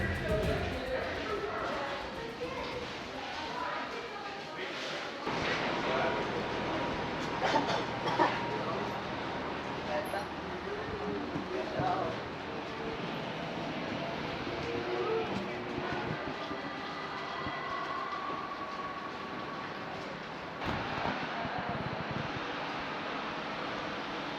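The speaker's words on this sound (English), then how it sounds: "There's my train. Let's go on board." A Berlin U-Bahn subway train on Germany's oldest line rumbles and hisses through a station, with steady rail noise, brake squeals and voices talking throughout.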